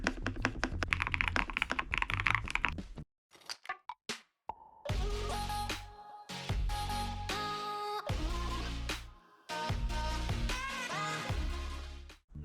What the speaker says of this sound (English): 5 modes that make your keyboard sound like this